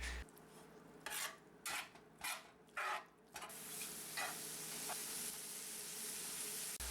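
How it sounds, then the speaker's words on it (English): Ground beef, a pound of it, stir-fried in a restored Lodge cast iron pan, sizzling steadily while a utensil scrapes and clatters against the iron in several bursts, then settling into a continuous close fry. "We add a pound of ground beef to the pan and start stir frying."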